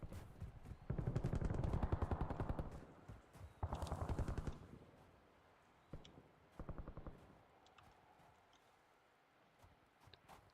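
Gunfire in Call of Duty Warzone Season 3 Reloaded, with bursts of rapid shots aimed at a house, loud and close at first, then shorter, fainter volleys trailing off.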